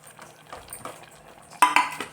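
A utensil stirs fried ingredients into sweet pongal with ghee in a metal pot, giving soft scraping strokes and then a few sharp, close clinks near the end, with no voices.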